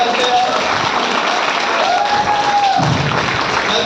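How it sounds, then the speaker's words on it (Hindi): Audience clapping at a comic poetry recital in Noida, a continuous wash of applause with a voice speaking over it throughout. "बजाओ ताली"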